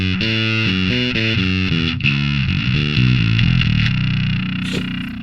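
A heavily distorted bass guitar plays a riff of thick, buzzing low notes through an STL Tonality Will Putney Suite amp simulator, loud and upfront, ending with a sustained fade.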